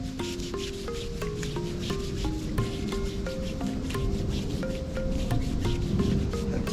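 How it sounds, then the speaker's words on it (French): Hands rub steadily along a forearm and arm during a gentle Qi Gong routine, a close, continuous brushing friction with a soft, even texture and faint background tones. "Puis on frotte l'avant-bras et le bras droit."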